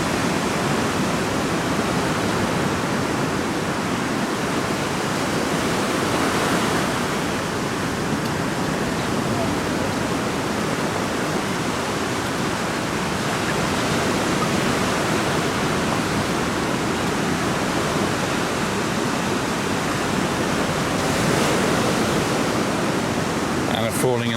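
Sea waves break at Paguera beach in Mallorca as a steady, loud, broadband roar of surf that barely changes for the whole stretch, with no clear voices standing out.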